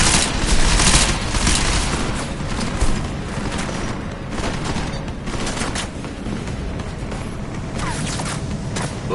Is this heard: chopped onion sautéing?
no